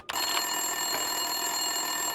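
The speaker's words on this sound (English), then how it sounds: "Winterson's phone was ringing." Telephone ringing at an empty office desk in the Max Payne 2 video game, a continuous electronic ring with bright sustained tones that stays steady and fairly clear, with no talk over it.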